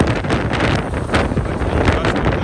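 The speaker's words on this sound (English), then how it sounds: "little windy, huh? It's windy." Strong wind buffets the microphone on Trinity Bridge in St. Petersburg, Russia, with loud, uneven rumbling gusts that rise and fall throughout.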